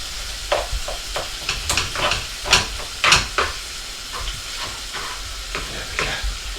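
Blue Stilton and port sauce is stirred in a pan, with repeated scraping strokes in an irregular rhythm over a soft, steady sizzling hiss.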